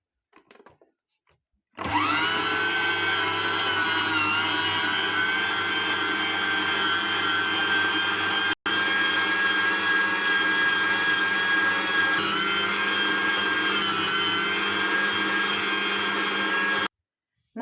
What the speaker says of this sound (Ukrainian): Перемелюємо м'ясо на м'ясорубку, робимо фарш.